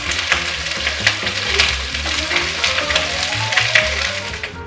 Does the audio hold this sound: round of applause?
no